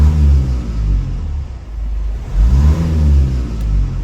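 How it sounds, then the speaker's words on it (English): A Mazda 6 diesel with a turbo and DPF issues revs up from idle, engine note climbing in two loud surges with a dip between, close by and with no talk. "So if I rev the car, those numbers should rise rapidly or quickly,"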